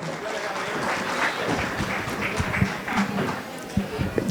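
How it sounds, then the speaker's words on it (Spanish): Applause for officials at a book presentation event in Azcapotzalco, a moderate crowd clapping amid room noise, with some voices mixed in. "Fuerte el aplauso, por favor, para todas nuestras autoridades"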